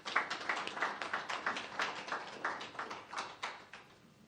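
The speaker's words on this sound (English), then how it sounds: "Please help me give him a round of applause as he comes up." A small audience at a roadshow event claps for a presenter coming up, a modest patter of hand claps with a steady, slightly uneven rhythm that stays fairly close and moderate in volume before tapering off.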